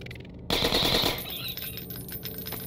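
Rapid automatic gunfire in Half-Life 2 Episode Two played in VR, a loud dense burst of shots erupting suddenly, then trailing into scattered echoing reports over game ambience.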